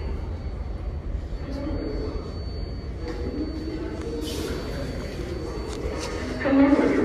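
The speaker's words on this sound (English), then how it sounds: "There is an Uptown Local 6 train to Pelham Bay Park" A New York City subway train, an uptown local 6 train, rumbles steadily, its low roar growing, with brakes squealing near the end as it arrives at Brooklyn Bridge–City Hall station.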